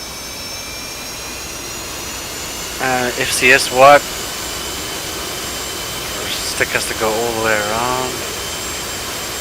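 Jet engine of a carrier-launched aircraft spooling up on catapult 1 in the DCS World flight game, a steady high whine and rumble running under two bursts of talk.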